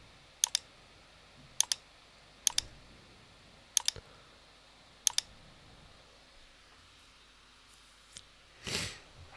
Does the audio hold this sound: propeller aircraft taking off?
no